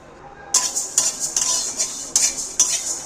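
Fenugreek seeds and spices are stirred in a pan for a raw mango pickle, with sharp metallic spoon clanks and scrapes against the pan every half second or so and a faint sizzle underneath.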